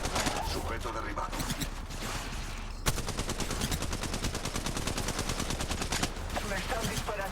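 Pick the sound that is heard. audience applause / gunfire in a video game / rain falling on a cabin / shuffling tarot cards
gunfire in a video game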